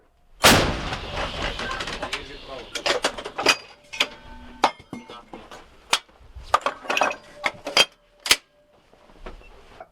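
A heavy boom from an M119 howitzer opens the clip, followed by clattering metallic clanks and knocks as crew handle equipment nearby.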